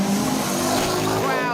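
Rally cars on the Menai Stages in 2023 roar over a brow on a forest stage, engines buzzing loudly and rising in pitch as they pass, with someone talking over the noise.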